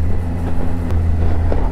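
Steady low drone and rumble from a Triumph Tiger 800 XCa motorcycle underway, engine hum mixed with wind noise, continuous and fairly loud with no voices.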